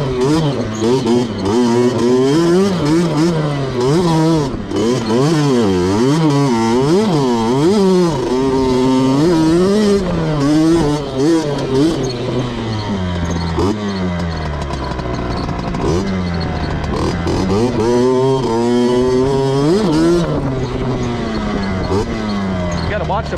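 A 1999 Kawasaki KX 60 two-stroke dirt bike revs hard while ripping around a yard, its engine pitch rising and falling in loud, continuous wavering sweeps for the whole stretch, with no clear talk over it.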